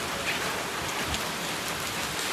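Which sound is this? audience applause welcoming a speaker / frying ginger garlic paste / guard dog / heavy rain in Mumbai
heavy rain in Mumbai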